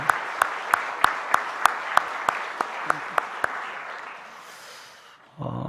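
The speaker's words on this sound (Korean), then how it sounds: "위로의 박수 한번 드리면 좋겠네요" A church congregation offers a few slow, sparse claps of comfort for a bereaved family, sharp evenly spaced smacks that thin out and fade into a hushed room before a low murmur returns at the end.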